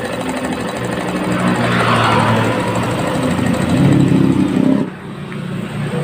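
A Suzuki GD110 motorcycle engine with a noisy cylinder head runs steadily at idle nearby, a continuous rumbling drone with a slight swell before it drops lower near the end.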